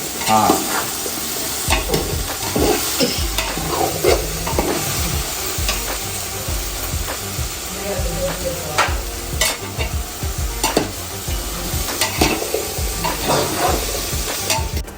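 A spoon scrapes and stirs through a sizzling pan of drumstick and tomato curry in repeated strokes, close up, with a constant frying hiss underneath.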